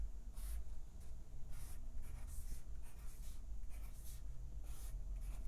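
A pencil draws a function graph on paper, with close scratchy strokes that come in repeated bursts over a steady low background hum, and nobody speaking.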